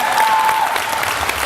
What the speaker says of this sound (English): Let's give Stevie Taylor a round of applause.